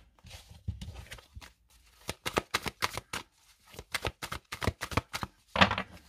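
A deck of tarot cards is shuffled up close in quick rhythmic bursts of riffling and slapping, separated by short pauses and ending in a louder final flurry.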